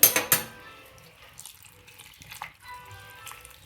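A glass of hot water is poured into a pot of kheer, a brief bright splash that fades into light stirring and clinks of a utensil against the pot.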